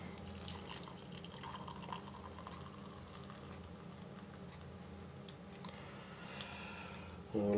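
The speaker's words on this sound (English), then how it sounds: "And I do have some boiling water there." Boiling water is poured for tea into a cup, a soft continuous trickle and bubbling splash at low level, ending with a brief louder clunk.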